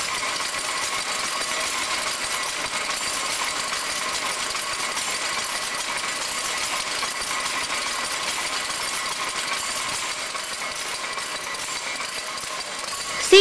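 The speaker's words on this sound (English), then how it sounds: "This is a clear view of the tilting action of the card cylinder by the L lever." A loom's card cylinder is tilted by its L lever, giving a steady, fairly loud mechanical clatter and rattle that runs without a break and without any voices.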